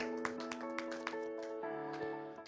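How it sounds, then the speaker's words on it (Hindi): An audience at a Hindi poetry gathering claps to welcome a poet, with scattered sharp hand claps and taps over sustained musical tones, fairly close and moderately loud. "जोरदार ताली के साथ स्वागत"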